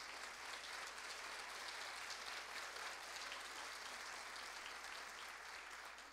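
An audience at an event applauds to welcome a guest, dense steady clapping from a crowd that is faint and distant throughout.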